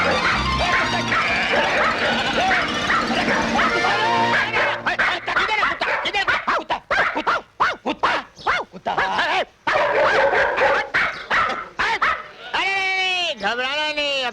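Dogs bark and whimper in a Hindi action film scene, with repeated yips and whines, some high wavering cries near the end, mixed with background score and voices.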